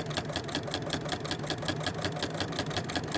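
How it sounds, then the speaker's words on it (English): A sewing machine stitches a half-inch seam on a quilt hanging sleeve, with a steady fast mechanical whir and regular needle pulses that run close and even throughout, with no talking. "Sewing a 1/2 inch seam allowance,"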